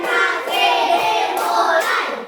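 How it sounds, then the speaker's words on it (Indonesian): Schoolchildren in a classroom perform the concentration clap together: a loud burst of many hands clapping in a rhythmic pattern, close and dense, with no talking over it. "Tepuk konsentrasi dulu."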